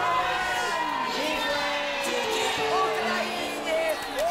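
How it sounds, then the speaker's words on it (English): Eurovision Song Contest 2010 crowd cheering and whooping, a steady broad roar of many voices with higher shouts and whistles rising over it, held loud throughout. "Big cheer here, of course."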